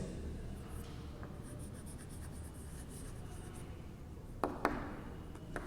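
Pen writing a maths formula on paper: a continuous soft scratching and rubbing under steady background noise, with a couple of sharper taps near the end.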